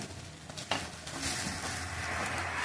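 Close stirring of okra and potato bhaji in an oily pan, with a soft clink of the spatula against metal early on, followed by a steady gentle sizzle and scraping.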